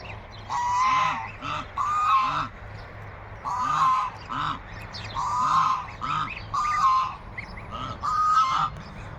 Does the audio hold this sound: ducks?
yes